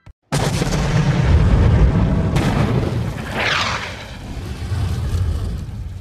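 Explosion in a film as a gift package is opened: a sudden heavy blast followed by a long, loud rumbling roar and crackling debris that slowly fades.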